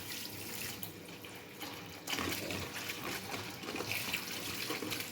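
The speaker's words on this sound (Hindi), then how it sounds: "जी इसको अच्छी तरह धो लेती हूँ, धो के फिर इसको डालती हूँ।" Running tap water splashes steadily over chopped green onions and coriander being washed in a sink, a continuous faint gush that swells slightly partway through, with no talking.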